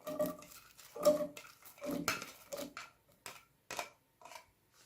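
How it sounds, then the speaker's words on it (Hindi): Chopped onions tipped into a pot of hot oil for Punjabi kadhi pakora, giving a series of clattering metallic knocks and scrapes against the pot, loud at first and then thinning into sparser, fainter taps. "अब ऑयल के अंदर मैं प्याज ऐड करती हूँ"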